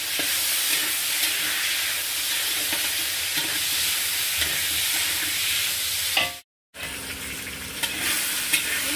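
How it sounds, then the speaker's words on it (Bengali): Brinjal pieces fry lightly in hot oil, giving a loud, steady sizzle close up that breaks off briefly before resuming. "বেগুনটাকে আমি হালকা ভেজে নেব।"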